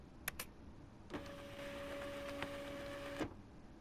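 A printer runs in the video game Life Is Strange, with a couple of quick clicks first and then a steady mechanical whir for about two seconds. It is close and fairly quiet, and no one speaks.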